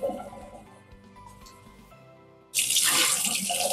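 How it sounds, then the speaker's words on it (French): Water tank of a Dreame wet-dry vacuum rinsed under a running tap: a loud, steady gush of water begins suddenly partway through, after quieter clattering handling sounds. "Et pareil, on rince le réservoir."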